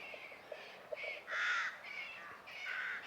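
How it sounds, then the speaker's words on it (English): Crows caw from trees beside a castle in a Scottish village, several harsh calls in an irregular series, one louder drawn-out caw in the middle, moderately near against a quiet background. "Those birds can fly out the trees."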